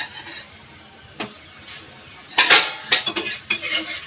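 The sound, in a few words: paratha flipped and oiled in a pan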